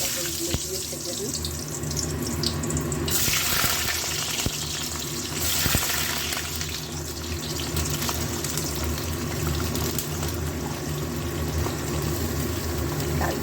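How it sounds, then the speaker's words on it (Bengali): Pointed gourd (potol) pieces fry in hot oil with a steady, loud hiss and crackle that swells briefly with bursts of sizzling, under faint background sounds. "গরম হয়ে গেছে, পটলগুলো দিয়ে ভেজে নিই।"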